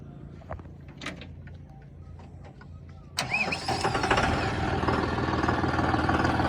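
A tractor fitted with a syncshuttle gearbox cranks over about a third of the way in and fires into a loud, steady close-up idle, after a quieter stretch with a few knocks beforehand.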